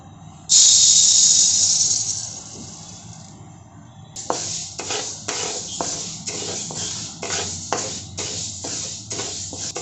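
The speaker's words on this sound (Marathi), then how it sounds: "उडदाची सुद्धा सुरुवातीला फुल गॅसवरती दोन ते तीन मिनिट असे सतत हलवत भाजून घ्यायची" Urad dal dry-roasting in a pan on full gas, heard as a loud steady hiss that fades, then a run of repeated scraping strokes as the lentils are stirred continuously.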